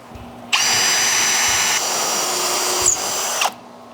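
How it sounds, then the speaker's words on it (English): A cordless power drill driving screws into wood whirs loudly for about three seconds with a brief dip in pitch midway, then cuts off abruptly, close by with no talking. "it comes in handy to have both the impactor and the cordless drill"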